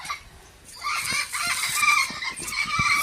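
A cockatoo at a zoo gives a run of harsh, raspy squawks and calls, fairly close, with bird noise continuing through most of the short stretch and no talk over it.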